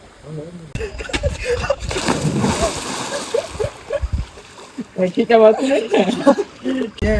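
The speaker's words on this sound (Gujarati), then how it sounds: "ભદ્રેશભાઈ ને આજે આપણે સ્વિમિંગ પુલ માં નાખી દીધા છે" A person thrown into a swimming pool makes a loud splash with churning water, amid laughter and chuckling from people nearby who keep talking over the commotion.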